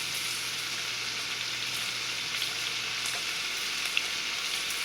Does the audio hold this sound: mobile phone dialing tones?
no